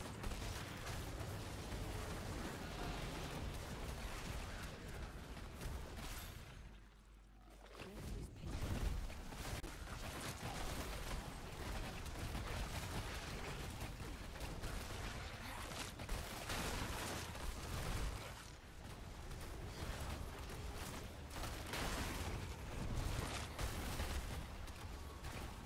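Repeated bursts and blasts of skeleton minions exploding monsters in Diablo Immortal churn under a dense, continuous game soundscape, easing briefly partway through before building again.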